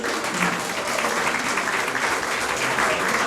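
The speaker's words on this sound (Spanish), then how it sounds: "Un fuerte aplauso a Trove" A crowd at a live event in Aruba applauds steadily and loudly, a dense wash of many hands clapping that holds at an even level throughout with no break.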